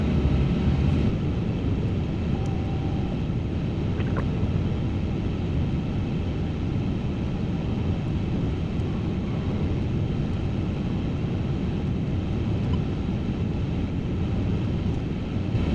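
An Airbus A350-1000 taxiing at London Heathrow, its engines giving a steady, continuous broadband rumble and whine that holds evenly loud throughout, with no talk over it.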